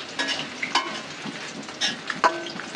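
Bitter gourd tipped into a pan of frying potatoes and onions, giving a steady close sizzle with stirring scrapes and a few brief clatters, no voices.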